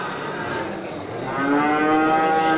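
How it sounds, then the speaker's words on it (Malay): Aceh cattle at a livestock market, one cow giving a long rising moo that grows louder midway and holds, close and clear over a soft background murmur. "banyak terlihat ini adalah sapi Aceh ya"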